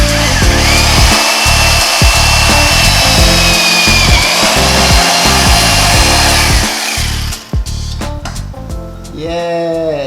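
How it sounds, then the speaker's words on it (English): Power drill boring holes through a car bumper on a Hyundai Genesis Coupe grille mod, a loud continuous whine with repeated brief pauses and restarts, easing off near the end. "I've gone ahead and drilled the holes on the side, as you can see."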